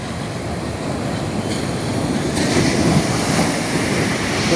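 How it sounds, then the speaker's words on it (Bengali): Large ocean waves crash onto the beach at Visakhapatnam, a loud, continuous roar of surf that swells slightly partway through, with no talking heard. "বিশাল বড় বড় ঢেউ, এত বড় ঢেউ আমিও দেখিনি।"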